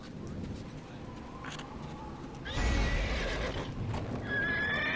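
A horse in the Neverwinter video game neighs loudly over steady galloping hoofbeats, the whinny rising midway and the clip-clop continuing throughout at close range.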